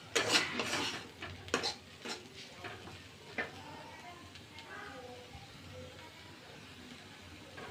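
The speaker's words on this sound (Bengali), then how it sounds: "ভাজিটা এরকম করে একটু ভালোভাবে নেড়ে চেড়ে ভাজিটা নিয়ে নিলে" Potato fry with onion flowers stirred in a pan, a metal utensil clanking and scraping loudly in quick strokes at first, then softer stirring with a faint sizzle and a voice in the background.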